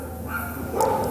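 Dog barking nearby, a short bark burst toward the end over steady room background.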